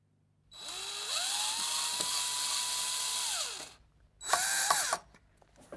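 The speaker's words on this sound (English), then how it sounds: "pre-drill a hole all the way through" A cordless power drill pre-drills a hole through a wooden ladder shelf, its whine rising in pitch and holding steady for a few seconds, then stopping, followed by a shorter second burst, close and alone.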